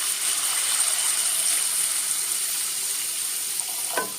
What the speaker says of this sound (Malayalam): മൂന്ന് കപ്പ് രണ്ടാം പാലാണ് ഇതിലേക്ക് ഒഴിക്കുന്നത്